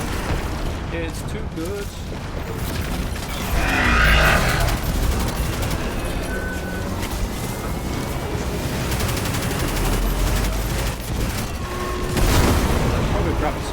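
A walker is blown up in Destiny 2, with heavy booming blasts rising out of constant gunfire, one near the middle and another toward the end, while a person talks over the fight.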